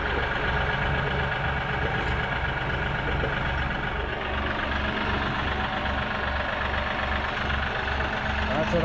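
Kioti DK5320SE compact tractor engine idling, heard from outside near the muffler outlet: a steady, loud low throb with a regular pulsing rhythm that runs unbroken.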